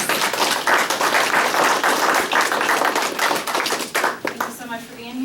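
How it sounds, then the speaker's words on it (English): A crowd claps steadily for several seconds, dense applause filling the room, tapering off near the end as a voice begins. "let's give them a round of applause"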